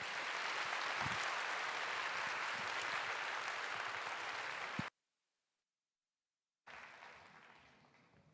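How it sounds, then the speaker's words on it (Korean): A church congregation applauds as a missionary to Kenya is welcomed forward, a steady wash of clapping that cuts off abruptly into silence, then resumes more quietly and fades. "선교사님 나오실 때 박수로 환영해 주시길 바랍니다"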